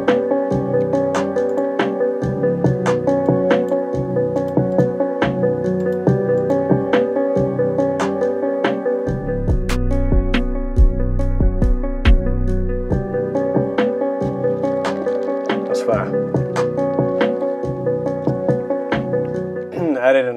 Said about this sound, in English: The kick, the clap, the snare, and hi-hats, this is what it's gonna sound like right here.